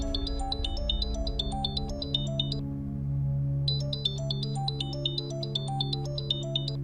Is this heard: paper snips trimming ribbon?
no